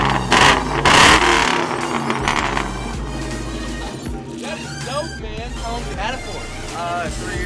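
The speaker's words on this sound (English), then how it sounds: "Dude, rev it again." A Cadillac V8 limousine engine revs with a loud, low rumble that surges at the start and then settles. Excited voices talk over it throughout.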